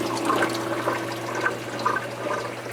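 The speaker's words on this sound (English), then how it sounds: "the water is being sprayed out over that plastic screen" Water spraying steadily over the plastic screen of an aquarium algae scrubber, a continuous close splashing wash with a low steady hum beneath, no talking.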